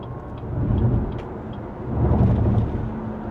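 A BYD Seal electric car accelerates at full throttle on a highway, heard from inside as a deep rising rumble of road and wind noise that swells in two waves, with no speech.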